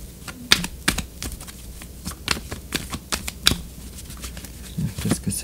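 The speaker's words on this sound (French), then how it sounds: "Je brasse les cartes encore un petit peu." Tarot cards are shuffled up close in quick, irregular flutters and taps. No one speaks.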